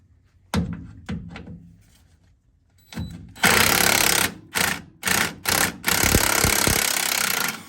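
Impact wrench with a half-inch socket rattling a bolt loose on a Ford F150 front axle, short bursts at first, then a long loud burst broken by several brief stops, with a few metallic clanks at the end.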